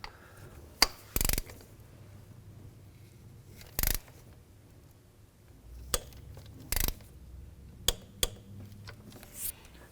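A ratchet snugging an ignition coil bolt on a 2015-2019 Hyundai Sonata, heard as short separated bursts of rapid clicking amid quiet workshop background.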